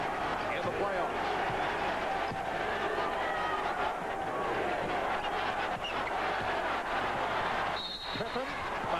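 A basketball arena crowd at a 1994 NBA playoff game between the Bulls and Knicks at the Knicks' home court, a dense sustained roar of booing directed at Charles Smith, with an announcer talking over it.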